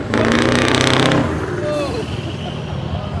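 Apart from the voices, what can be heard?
Scania truck engine starting and revving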